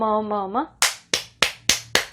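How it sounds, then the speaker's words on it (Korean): A single person claps their hands five times in a slow, even rhythm, each clap sharp and close, following a short sung or spoken vocal phrase. "박수 쳤어요 제가."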